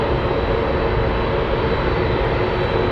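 A Boeing 747 Dreamlifter's engines roar as a steady, dense, unbroken drone at Anchorage, loud and constant throughout with no voices.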